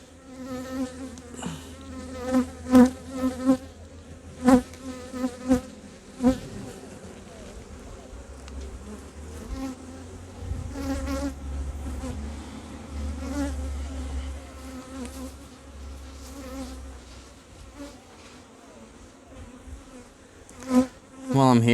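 Honey bees buzzing around an open beehive during re-queening, a steady close hum with individual bees zipping past the microphone in sharp louder swells, alone without talk.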